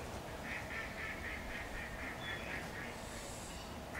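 A crested duck at a wetland centre quacks in a steady run of about a dozen short, nasal calls, moderately close, over a constant broadband background hiss.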